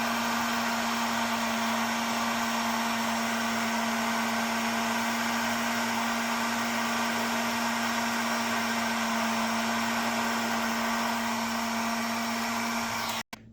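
A heat gun blows hot air onto a heat-shrink connector's terminal end, a steady loud whirring hiss with a constant hum that runs unbroken and then cuts off abruptly at the end.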